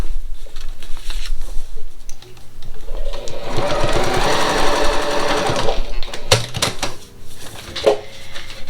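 A sewing machine runs steadily for several seconds, stitching a quarter-inch seam on a purple square for a pickle dish quilt block, with handling clicks and rustles before and after the run.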